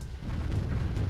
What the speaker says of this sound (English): For now, we'll bomb the crit out of it.